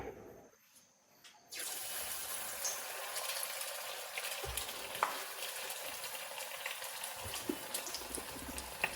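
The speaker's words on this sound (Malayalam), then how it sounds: "അപ്പൊ എണ്ണ ചൂടായിട്ടുണ്ടേ. അപ്പൊ എന്തായാലും എടുത്തിടാം." Snack pieces frying in hot oil at home, a steady close sizzle and crackle that starts after a short quiet moment and runs on continuously, with brief bumps and stirs.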